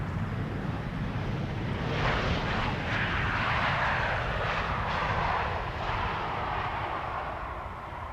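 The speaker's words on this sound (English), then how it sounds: "It was a very gentle landing there." A passenger jet from Bordeaux lands at Amsterdam Schiphol Airport on a sunny day, its engine roar swelling to a broad peak mid-pass and then easing, heard from a distance with light wind noise and no talking.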